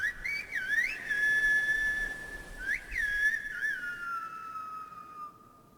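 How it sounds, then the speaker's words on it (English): El silbo, the whistled language of the locals, rings out as clear, sustained whistles that rise and fall in pitch across two phrases, with a faint background hiss before the final tone fades. "it's actually a whole way of speaking using whistles. It's called el silbo, the whistle"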